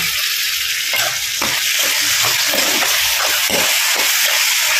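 Finely chopped tomatoes going into a hot pan for an egg curry, a loud continuous hiss and sizzle with scattered stirring taps throughout.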